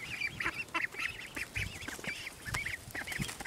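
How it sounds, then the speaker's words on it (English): Ducks and small ducklings near an outdoor brooder, a busy chorus of peeping and quacking calls repeating close by, steady and moderately loud with soft rustling beneath, no talking. "5 little ducklings. And it looks like Mama and Papa are on their way, Annie and Pocky."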